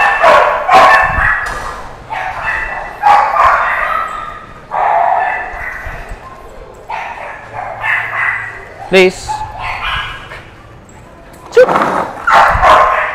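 Belgian Malinois dogs barking and yipping outdoors during recall training, several sharp close barks and whimpers in bursts, with a trainer talking between them.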